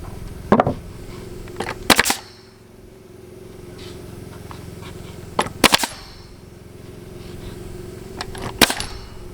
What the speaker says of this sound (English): So what a cool little gun. It comes in pre-rolled nails